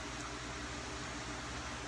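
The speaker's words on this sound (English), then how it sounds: "Pardon the noise, but the fan's now on high." Electric fan running on high, a steady broadband whoosh with a low hum underneath, close and constant with no talking.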